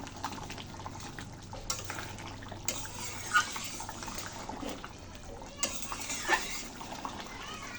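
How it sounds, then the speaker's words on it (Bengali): A spiced egg dish with ground garam masala being stirred and mixed in a pan, giving soft, faint scraping and clatter through steady low background noise. "ভালো করে মিশিয়ে নিচ্ছি।"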